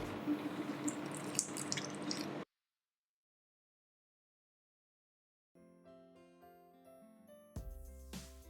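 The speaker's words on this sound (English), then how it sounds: "I'm going to add some warm milk." Warm milk poured into a dough mixture for Goan pao dinner rolls, a short, close, wet splashing pour, followed by silence and then gentle background music.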